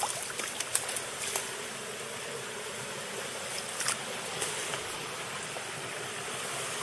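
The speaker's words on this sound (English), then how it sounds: "There's a waterfall in here." Water of a waterfall at Burntmill flows in a steady, faint, continuous rush with a light splashing texture and no voices.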